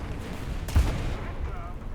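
A tank cannon shell fired in the War Thunder video game, one short muffled boom partway through over a dense rumbling game soundscape.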